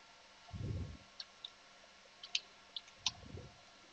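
Sparse keystrokes on a computer keyboard as a command is typed, a handful of light, separate clicks spaced irregularly, close and quiet, framed by two soft low thumps.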